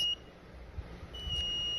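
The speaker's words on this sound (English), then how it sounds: "Produces a sweeping frequency between about 2000 and" Electronic buzzer tone from a microcontroller project sweeping between roughly 2000 and 3000 Hz, a thin faint steady beep that drops out briefly and returns, alone over low background hum.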